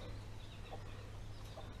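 A mother hen gives soft repeated clucks calling her newly hatched chicks to peck at semolina, faint under a steady electrical hum and background noise.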